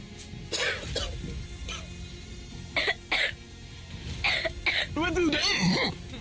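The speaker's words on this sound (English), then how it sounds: "As they cough like this, you like am?" Several sharp coughs and throat-clearing bursts, from people in smoke from open waste burning, break out amid lively talk and other voices nearby.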